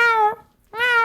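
A voice imitating a cat meow, two drawn-out, tonal meows separated by a short pause, close and clear with nothing else heard.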